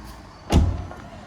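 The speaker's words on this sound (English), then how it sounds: "your bonnet release lever is on the right hand side here, next to your driving pedals. So all you simply do is pull that back" On a Volkswagen Polo GTI, the bonnet release lever beside the driving pedals is pulled and the bonnet pops open with a single short, dull thud over a quiet background.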